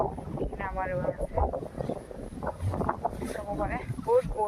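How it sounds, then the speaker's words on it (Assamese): Strong wind gusts across an open rice paddy field, roaring and buffeting the microphone in uneven surges while a person talks over it. "চাব পাৰে বহুত বতাহ মাৰিছে বহুত বতাহ আহিছে"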